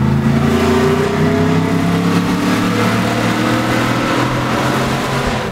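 A Ford Raptor V8 truck engine roars loud and close, revving hard through downshifts with a deep, continuous throaty drone and no voices over it.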